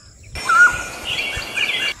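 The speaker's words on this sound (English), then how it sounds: "This video is about the mountain quail." A mountain quail, a small ground-dwelling bird of dense brush in wooded foothills, calls: a clear, close call of about two seconds with a whistled, chirping tone against a quiet background.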